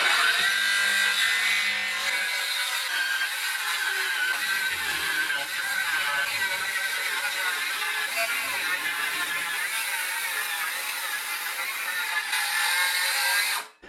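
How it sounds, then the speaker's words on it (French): A power saw cuts wooden floor panels in a continuous, hissing, rasping run of about thirteen seconds, fairly loud and steady before stopping abruptly. "maintenant je vais découper les panneaux jusqu'au bout."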